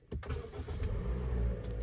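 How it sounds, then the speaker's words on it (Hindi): A Toyota Corolla Grande engine starts with a brief click and whir of the starter, then settles into a low, steady idle hum, close by, with no voices. "ये गाड़ी स्टार्ट कर लिया"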